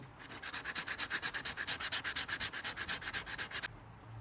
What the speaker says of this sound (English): I've been trying for a little while with a mix of 120 sandpaper and 180